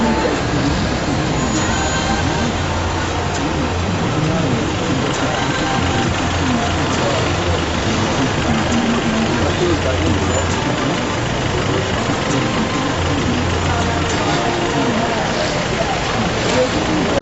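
Heavy traffic jam in Kinshasa: engines idling and rumbling in a dense, continuous low drone with street noise, while a voice talks over it throughout.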